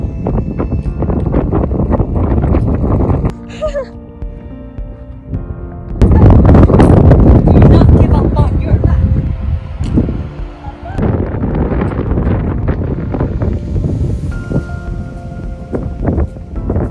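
Strong wind at the top of Yosemite batters the microphone in loud, rumbling gusts, with a blast that swells midway; a person speaks briefly amid the roar.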